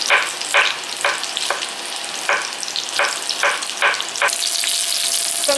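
Young potatoes fry in a pan, a loud, steady sizzle broken by regular scraping bursts of stirring, about two per second, close up.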